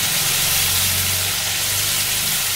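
Fish fries in a pan of oil with a loud, continuous hissing sizzle, a dense, bright crackle that stays steady throughout with a faint low hum beneath it.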